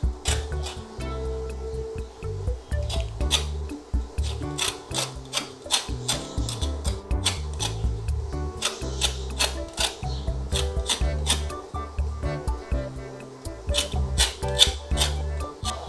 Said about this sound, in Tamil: தோலை உரிச்சிக்கலாம்.